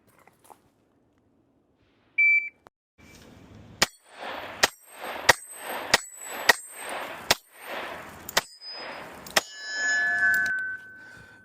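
Eight rapid Glock 19 pistol shots ring out against steel targets, each a sharp crack with a bright metallic ping, spaced roughly evenly in quick succession, close and loud.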